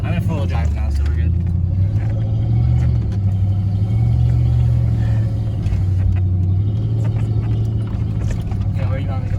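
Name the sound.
lifted Ford F150 truck driving off-road in four-wheel drive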